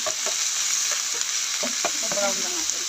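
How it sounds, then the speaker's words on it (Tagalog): Garlic frying in oil in a pan, a steady bright sizzle throughout with several short scraping stirs of a utensil scattered over it; no talking. "Lagay ng ating garlic. Bakain naman natin sa oil."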